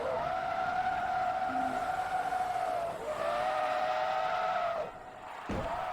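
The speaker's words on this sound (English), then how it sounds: "Customary handbrake turn." Sustained tonal tire squeal from a handbrake turn skid in Forza Motorsport 2, a steady screeching whine over engine noise lasting several seconds before cutting off, then resuming briefly.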